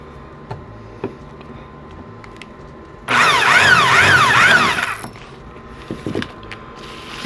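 A small power drill whines steadily for about two seconds while boring a hole into a tiny metal bottle cap, close and loud, with quiet handling noise before and after.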